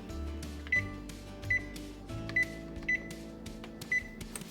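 Short electronic beeps from an oven control panel while preheating to 375 degrees, about six quick chirps at irregular intervals over quiet kitchen background hum.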